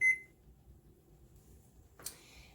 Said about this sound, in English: I'm going to go ahead and turn the oven up to 450.